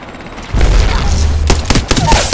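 Gunfire in an Apex Legends match: a burst of booming shots kicks in about halfway, with several sharp cracks and thuds following in quick succession at close range, and faint game voices mixed underneath.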